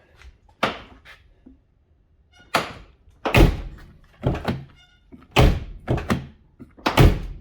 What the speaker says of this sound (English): I got the door handle in place on the truck, and it's working good.